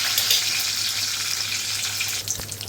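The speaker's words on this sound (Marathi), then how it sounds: "आपल्या डाळीला मस्तपैकी फोडणी जाम मस्त तडतडली आहे बघा" Spices and asafoetida crackle in hot oil as a tempering for dal, making a loud, steady hiss and sizzle up close that eases slightly near the end.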